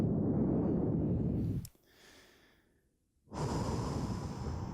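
Heavy breathing while recovering after exercise, a loud close blowing exhale followed by a faint pause and a fresh strong breath, with no talk.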